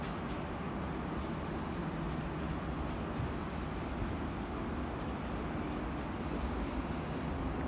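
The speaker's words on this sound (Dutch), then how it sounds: "En daar hebben we heel veel treinen achter elkaar" Trains move through Den Haag Centraal railway station in March 2017, a continuous low rumble of rolling stock and station noise that holds steady and fairly faint from start to finish, with no talk.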